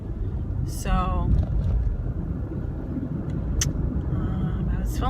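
A car on a commute rumbles steadily from inside the cabin, with low road and engine noise throughout and a brief spoken voice near the start.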